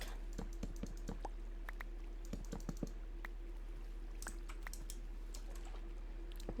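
Computer keyboard keys typed in quick irregular bursts of sharp clicks, near and faint over a steady low hum, with no talk.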